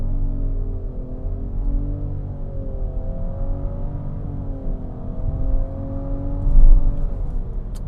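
A Nissan Rogue pulls away hard from a standstill, its engine drone rising and leveling in smooth steps as the transmission simulates gear changes, heard steadily from inside the cabin with no talk.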